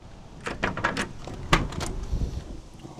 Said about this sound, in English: Doors open very smooth.